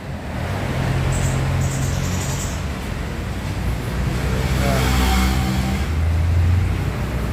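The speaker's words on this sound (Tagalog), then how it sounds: "Yan, ito guys yung makina niya." The engine of a 1996 Toyota MR2 SW20 runs at a steady, close-up idle, giving a continuous low rumble with a constant mechanical whir for about seven seconds.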